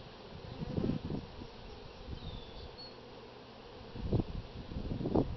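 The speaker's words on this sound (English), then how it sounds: "there still seems to be quite a few bees in here" Honey bees buzz faintly and continuously in an open hive, with brief louder hums as they pass close, against a low hive drone.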